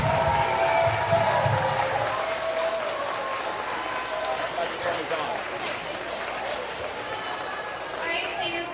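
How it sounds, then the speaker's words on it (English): An audience claps steadily for first and second graders at a school showcase, a dense, even wash of applause that keeps going for several seconds, with a voice briefly heard at the start. "Why don't you give them a round of applause to encourage them right now?"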